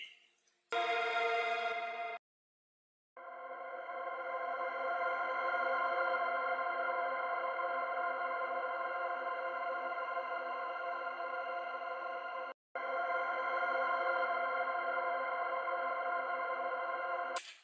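A sustained, heavily processed tonal swell with a long reverb tail, broken by a short gap early on and a brief dropout near the end.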